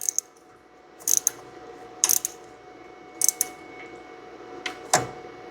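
A ratchet wrench tightens a brake fitting down until it bottoms on a 2000 Nissan Frontier, sounding as several short bursts of sharp clicking spaced about a second apart, close and clear against a quiet background.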